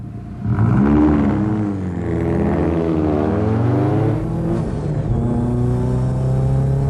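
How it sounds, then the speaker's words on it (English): Two Rover 220 Turbo Coupes pull away on an endurance record run, engines revving up and climbing through the gears, loud and close, with the steady drone continuing throughout and no talk. "the two Rover Coupes set off on their test of endurance, speed and reliability"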